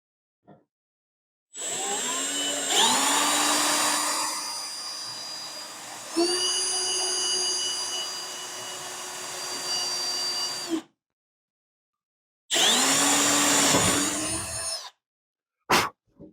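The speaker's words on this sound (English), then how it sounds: "Just going to drill out the second one." A power drill whines steadily for several seconds drilling a hole in a fiberglass Frogeye hardtop, pitch rising and falling as it bites, then stops; a second shorter burst follows, then a brief blip.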